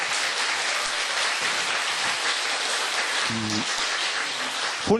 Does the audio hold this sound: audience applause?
yes